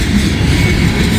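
A train passes on the railroad track in Wyoming, a loud, close, continuous rumble with dense rolling noise and faint rhythmic wheel clatter.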